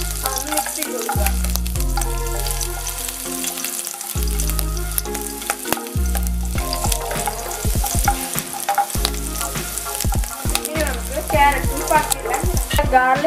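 Garlic frying in a pan for chicken fried rice, a continuous crackling sizzle with repeated sharp spatula scrapes and clanks, with steady rhythmic music playing throughout.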